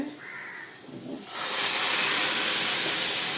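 Onions hitting hot oil in a pan while cooking cabbage kuttu, a sudden loud hiss that swells in after a quieter start and holds steady as a broad, continuous sizzle with no talking.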